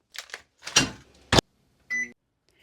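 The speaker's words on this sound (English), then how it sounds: "I will start to microwave my vegetables" A microwave oven is set to heat frozen vegetables: a few quick clicks and a door thump, then a short, clear electronic beep.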